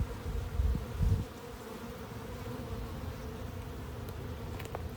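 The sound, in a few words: agitated honeybees buzzing at an opened hive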